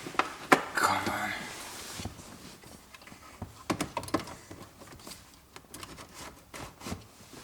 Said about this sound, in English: Even the antenna is working. You can hear it clicking.